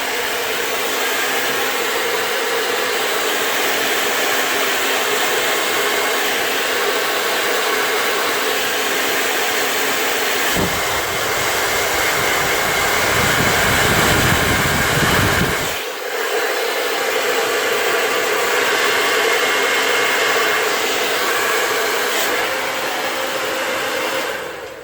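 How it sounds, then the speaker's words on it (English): A blow dryer on medium heat drying micro locs roars steadily and loudly for the whole stretch, its tone shifting briefly deeper midway as airflow is blocked, with no talking. "I'm going to put my blow dryer on a medium heat."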